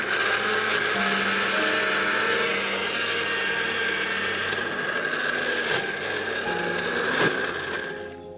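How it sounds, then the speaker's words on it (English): A kitchen blender grinds a thick laksam gravy, a steady, loud whirring drone with a rasping, grinding texture that runs unbroken for several seconds before easing off at the end. "we're going to blend it. And it's not going to be like a sauce like regular laksa gravy or laksa kuah"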